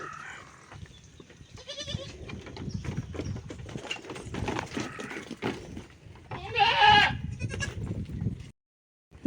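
Goats bleat repeatedly at a rural farm, with several overlapping calls near and far, one loud cry standing out, amid general outdoor commotion.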